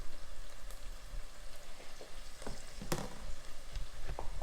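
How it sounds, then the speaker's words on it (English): Spices toasting and sizzling in a hot pan while being stirred for caldo verde, a soft steady crackle with scattered scraping taps from the utensil, close and quiet. "Stir that around. We want to toast spices."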